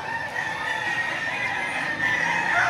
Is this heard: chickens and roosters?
yes